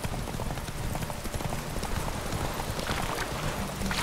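Galloping horse in The Witcher 3, a steady, dense clip-clop of hooves running continuously at close range under game ambience.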